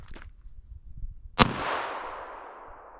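A single sharp gunshot from a 9mm Makarov pistol firing a handloaded round, loud and close, with a fading reverberant tail after a faint click.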